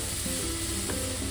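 Oncom and petai beans sizzle and fry steadily in a pan, a close, continuous crackle with faint stirring, no voices.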